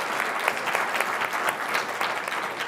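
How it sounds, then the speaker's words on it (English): A conference audience gives the panelists at a renewable energy event a round of applause, with dense, steady clapping filling the whole stretch at moderate volume. "So I want to give a round of applause to our panelists."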